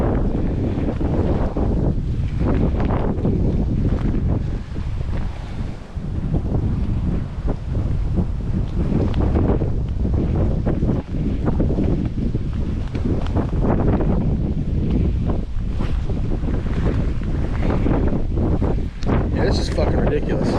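Strong gusting wind buffets the microphone during winter trout fishing, a loud continuous roar with rumbling surges and no letup.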